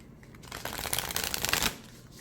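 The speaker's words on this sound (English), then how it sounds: "let's see how this deck shuffles" A new, slightly stiff oracle card deck is riffle-shuffled in one quick, crisp, fluttering burst lasting about a second, then quiet.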